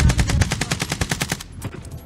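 Rapid automatic gunfire in the Warzone video game, a steady burst of evenly spaced loud shots for about a second and a half, then a few scattered fainter shots trailing off.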